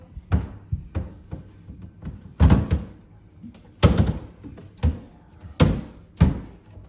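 Doors of a hallway shoe storage unit are fitted back on, giving a string of close, hollow thunks and knocks at uneven intervals, some in quick double hits, with no talking.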